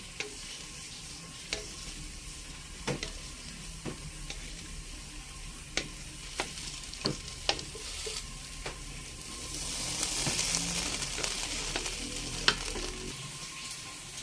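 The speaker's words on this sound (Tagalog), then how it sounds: "Hahaluin na natin." Chicken biryani is stirred in a pot, with sparse scraping knocks of a spoon over a low, steady sizzle and a louder hissing swell midway.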